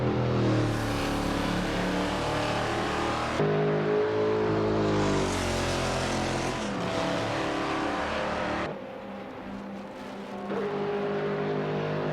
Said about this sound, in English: We just saw a bunch of our powered racing cars compete in the simulator.